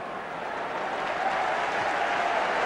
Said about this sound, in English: The cheer is because Ronnie Rosenthal has taken the tracksuit top off